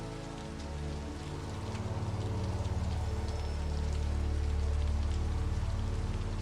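Rain keeps falling on window glass, an even, soft patter layered over a low droning hum that swells gently, continuous and calm with no talking.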